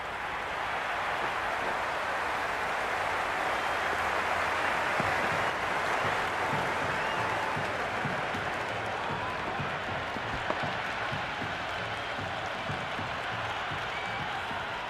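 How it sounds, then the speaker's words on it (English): Stadium crowd in the Cricket 22 video game during a Pakistan vs India T20 World Cup match, a dense, steady roar of cheering and applause filling the whole stretch, with rhythmic clapping bursts underneath. "It's evident and ever so audible that the crowd is at near bursting point at today's play."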